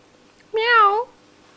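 A single short meow, close and clear, rising then falling in pitch over about half a second against a quiet background.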